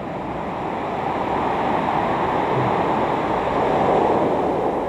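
Ocean surf at a beach in Carlsbad heard from a seaside inn, a loud, steady wash of breaking waves with some wind rumble across the whole stretch and no voices.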